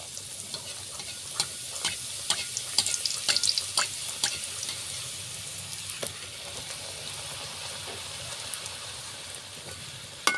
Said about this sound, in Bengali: আমি এভাবে সব লুচিগুলো ভেজে নিব